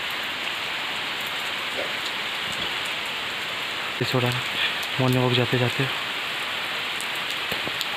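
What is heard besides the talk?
heavy rain during a morning walk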